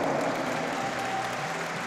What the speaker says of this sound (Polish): Brawa dla Michała!